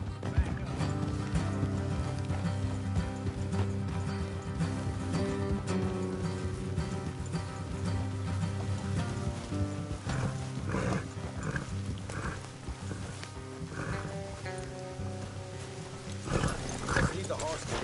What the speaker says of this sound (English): Leave the horses here and go the rest on foot.